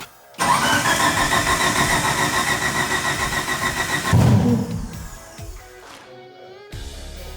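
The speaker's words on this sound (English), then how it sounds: "try firing it up, see what it does" A Mitsubishi Evo race car engine cranks loudly with a rapid starter whir, then catches with a rough burst before settling and fading to a lower idle.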